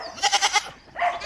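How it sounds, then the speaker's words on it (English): Goats on a small farm bleat close by, a rapid wavering four-pulse call followed by a second shorter bleat, loud and clear with no talking. "feed the goats and get them settled down and look for Pebbles"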